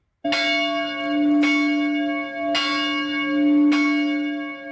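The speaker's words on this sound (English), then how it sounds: "the ringing of the chapel bell" A deep university chapel bell on a campus tolls four times at a slow, steady pace, each strike ringing out and sustaining into the next, with no voices present.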